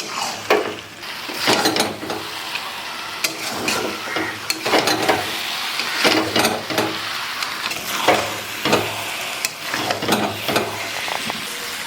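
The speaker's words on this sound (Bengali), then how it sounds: "এখন নাড়াচাড়া করে ভালোভাবে নামিয়ে নেব" Jujube pickle frying in mustard oil in a pan, stirred with a utensil that scrapes and knocks against the metal in irregular bursts over a soft steady sizzle.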